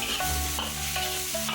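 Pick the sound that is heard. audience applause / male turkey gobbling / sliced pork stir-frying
sliced pork stir-frying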